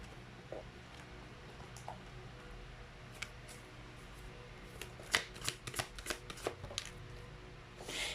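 Tarot cards shuffled by hand in a quiet room, a burst of crisp riffling flicks clustered in the second half after a few faint taps, close and fairly soft.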